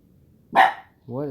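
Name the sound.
pet dog barking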